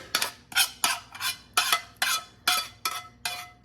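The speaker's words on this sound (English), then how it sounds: "You're gonna stir all this up." A spoon scrapes and clacks through taco casserole ingredients, seasoning and cooked onion, in a pan: about ten crisp, evenly spaced strokes, close and clear, with no talk.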